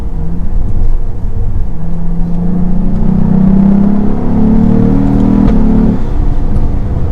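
A 2022 Cadillac CT4-V Blackwing engine revs up loudly and close by, its deep exhaust note climbing in pitch with a thunderous, throaty rumble, then settling back down.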